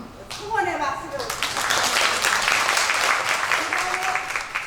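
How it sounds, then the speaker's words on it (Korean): Audience at a women's conference breaks into applause after a brief spoken encouragement, clapping swelling quickly into a dense, sustained round. "응원의 박수를."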